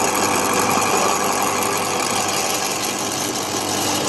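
An electric garden shredder runs while crushing material, giving a loud, dense, steady motor roar with a grinding edge that holds unbroken throughout, with no voices.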